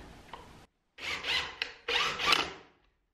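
Screws being driven to mount a power inverter, two short close bursts of whirring, grinding driver noise separated by brief pauses.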